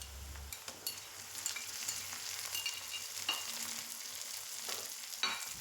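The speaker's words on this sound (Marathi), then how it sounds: "त्यात आता आपण घालूया टोमॅटो आणि तो पण आपण व्यवस्थित असा परतून घेऊया" Onions and tomato sauté in hot oil for a village-style masoor lentil curry, giving a steady close sizzle broken by sharp scraping and clinking of a spoon stirring the pan, with no talking.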